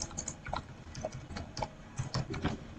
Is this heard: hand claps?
no